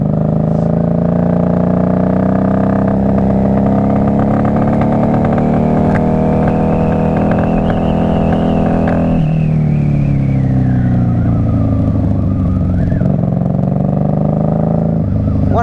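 A 1994 Honda Magna VF750C V4 motorcycle is ridden on a cold day. Its engine note is loud and close, rising and falling through revs and gear changes, with the pitch swelling and then dropping away.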